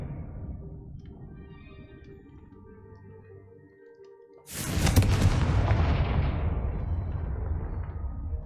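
A Confringo fire spell explodes in Hogwarts Legacy with a sudden loud, booming blast, preceded by low rumbling game ambience and followed by a long, crackling roar that slowly fades.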